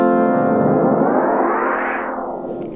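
A Meris LVX delay pedal's repeats have their delay time swept by a triangle-wave modulation, so a dense, loud stack of echoing tones glides upward in pitch, then bends back down and fades.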